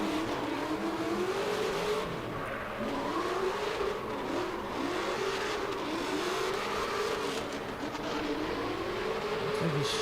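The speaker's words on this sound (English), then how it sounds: "Sounds like he's out geared to me, but that's just going off a sound of a car on the track" A drift car at the Oman International Drift Championship qualifying round revs repeatedly on the track, its engine pitch rising and falling in wavering sweeps, heard at a moderate distance with constant crowd and track noise.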